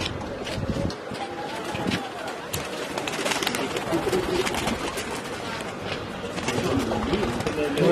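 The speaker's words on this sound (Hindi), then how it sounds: "मैं आपको जो आपके अपने कालू भाई जी हैं, इनके पहले तो ब्रीडर कबूतरों से मिलाता हूँ" Soft pigeon coos and fluttering in a loft of breeder and racing pigeons, amid a busy, noisy background, with people talking nearby throughout.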